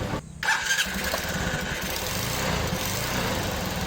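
A Honda TMX Supremo motorcycle engine, not yet tuned up, starts and then runs loudly at idle, with a steady, rough knocking chatter throughout and no voices.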